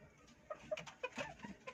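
Green leg chickens give a few soft, close clucks and short calls in quick irregular succession, fairly quiet.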